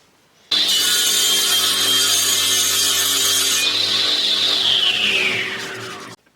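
A loud, steady power saw cuts through a block of wood for woodturning for several seconds, its whine dropping in pitch near the end before the motor cuts off.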